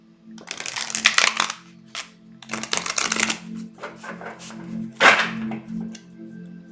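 A tarot card deck being shuffled in several quick riffling bursts, crisp and close, with short pauses between each shuffle.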